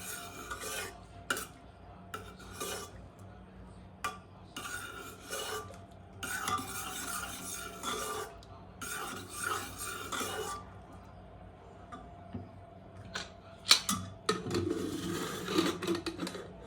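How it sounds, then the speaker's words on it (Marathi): Cooked dal being mashed and stirred in a pot, with intermittent scraping, rubbing and clinking of a utensil against metal in uneven bursts, fairly quiet and without talk. "ही डाळ आपली शिजलेली आहे। तर याला आपण घोटून घेऊया।"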